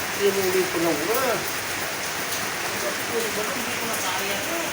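Heavy rain pours in a constant, dense hiss that fills the whole stretch, while people talk briefly over it near the start.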